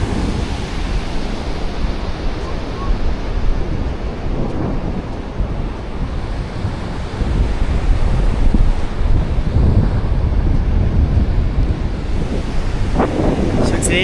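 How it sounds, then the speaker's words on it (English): Small ocean waves break and wash ashore at Morro Bay under heavy wind buffeting, a continuous rough roar that swells louder partway through. "Waves are pretty small."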